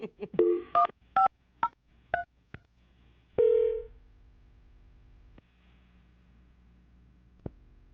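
Telephone keypad tones are dialed, about eight sharp beeps in a quick uneven run, then a longer tone and a low steady line hum, with a couple of faint clicks before a call is placed on a morning radio show.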